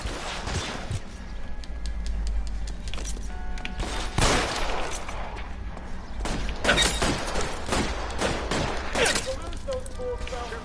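Gunfire in a video game on PS4, rapid bursts and single shots cracking repeatedly over a steady background din, loud and close, with voices talking at times.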